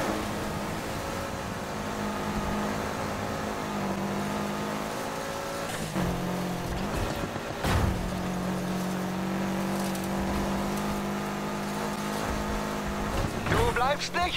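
Race cars in a Need for Speed Heat circuit race roar steadily throughout, with sustained engine drone, gear shifts and brief tire squeals, and a voice speaking over the racing.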